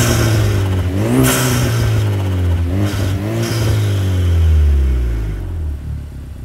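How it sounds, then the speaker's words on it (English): A 2022 Vanderhall Venice's exhaust rumbles loudly as the engine is revved several times, each blip rising and falling in pitch before settling into a deep, close idle. "Speaking of the exhaust, this car does sound pretty good."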